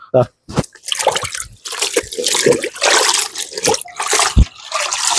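A white shirt is soaked in water: splashing and sloshing as the fabric is dunked and wetted, close and loud, with a person speaking over much of it.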